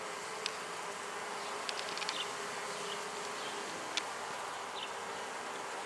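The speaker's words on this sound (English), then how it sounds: "Getting the scent out there for any wayward bees to come back," Honeybees buzz around a backyard beehive during beekeeping in Utah, a faint, steady outdoor hum with a few brief clicks and small rises, no voices.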